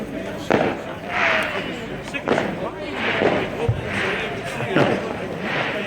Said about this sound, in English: All the fireworks are going off.